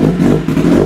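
Kawasaki Ninja ZX-10R superbike with an aftermarket Aero exhaust idling up close, a loud, steady, throaty low rumble with a slight uneven pulse, and no voices.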